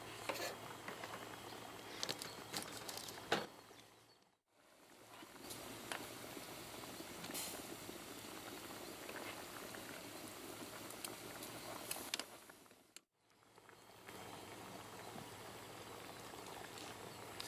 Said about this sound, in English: As you can see, it's boiling its head off.